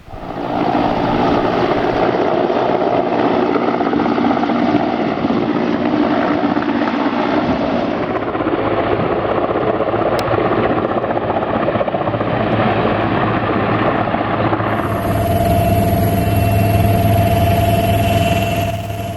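An Indian Air Force helicopter fighting a forest fire in the Parsons Valley woods near Ooty thunders close and loud, its rotor and engine roaring steadily the whole time, with the pitch and texture shifting as it manoeuvres.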